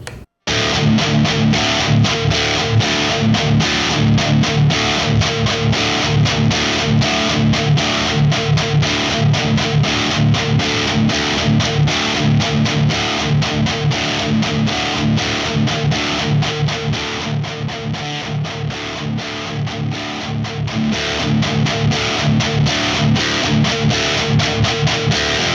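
A Bogner Uber Ultra EL34 amp pushes heavily distorted electric guitar continuously, a thick, saturated high-gain tone with chugging rhythm sustained loudly throughout.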